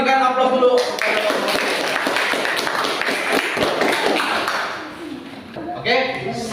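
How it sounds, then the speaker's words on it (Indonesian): A classroom audience claps for presenters at a teaching practice session, a dense burst of applause that fades out, with a voice speaking before and after. "Kita berikan aplaus dulu."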